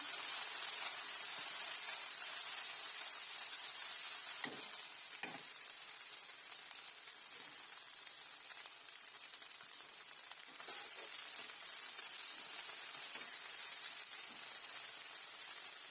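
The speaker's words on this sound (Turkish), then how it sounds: "5 dakika bu şekilde ara ara karıştırarak pişiriyorum." Okra with tomato simmers and sizzles in a pan over medium heat, a steady bright frying hiss throughout with a few soft scrapes and knocks of a utensil stirring it now and then.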